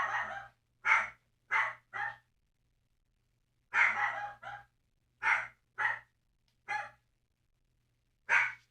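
A pet dog barks in short separate bursts, about nine in all, near and fairly loud, with brief silent gaps between them and no talk.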